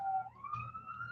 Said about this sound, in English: wait for the siren